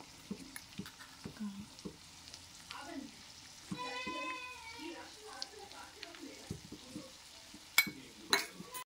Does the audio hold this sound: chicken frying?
yes